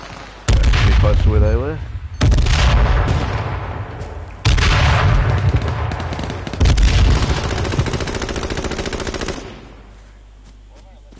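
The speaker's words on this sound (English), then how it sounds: "he's sniping" Heavy gunfire in the battle royale game H1Z1, several loud bursts of shots with booming low ends that ring out and decay, while a player speaks briefly over the firing.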